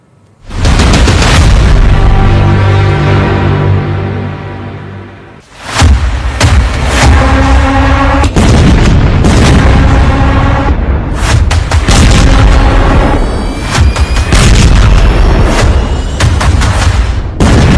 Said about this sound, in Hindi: फिर युद्ध भड़क गया है, फिर बम फटने लगे हैं